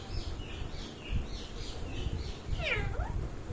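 An Indian ringneck parrot gives a faint cat-like meow, a short wavering call late on, imitating a cat against steady low background noise; a few soft chirps come earlier.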